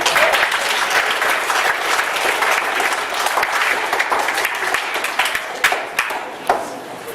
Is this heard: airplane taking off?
no